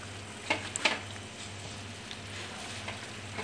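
Chicken thoran stir-frying with pepper powder in a pan gives a soft, steady sizzle, broken by a few clinks and scrapes from stirring in the first second.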